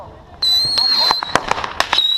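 Backyard fireworks for the Fourth of July go off in a rapid string of sharp cracks and pops over a high whistling whine. The bursts are close and loud, and voices are heard nearby.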